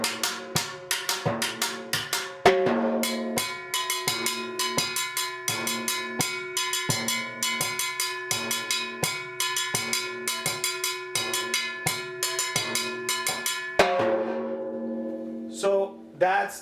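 A drum struck on its side with a bare hand on the other head, crisp ringing clicks in an even repeating pattern, close and clear, with brief pauses and a few stronger accents.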